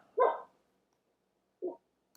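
A small dog gives two short barks, the first louder and fuller and the second softer, about a second and a half apart, close by in a quiet room with no talk.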